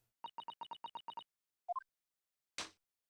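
Music box disc in the video game The Great Ace Attorney Chronicles, playing a quick run of eight identical short tones, then a brief pair of rising notes, then a single noisy burst, all clear against silence.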